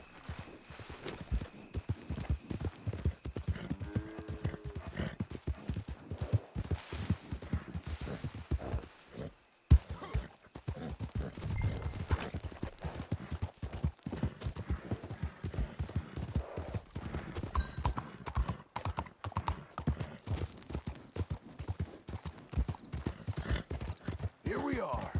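Horse hooves clip-clop steadily at a walk through a video game world, a continuous rhythmic patter of hoofbeats with faint ambient noise underneath and an occasional brief snort.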